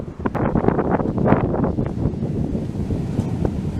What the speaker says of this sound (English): waves, some Gulf waves.